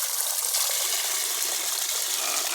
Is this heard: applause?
no